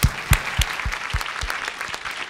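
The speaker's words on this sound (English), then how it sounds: "let's give them a round of applause" Audience at a women's panel discussion applauds the panelists on stage, a few loud nearby claps standing out over a thinner, spread-out round of clapping from the room.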